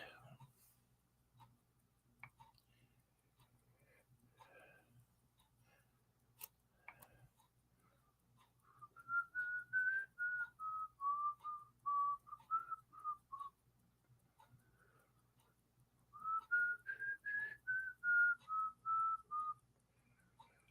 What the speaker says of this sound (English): Okay, I gotta stop whistling that.